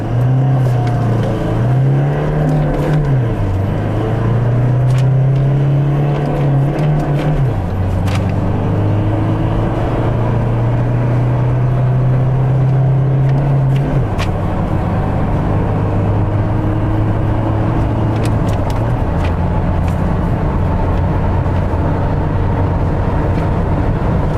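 A car pulls away from a standstill and accelerates hard through several gears, the engine drone climbing in pitch, dropping at each shift and climbing again, loud and close from inside the cabin.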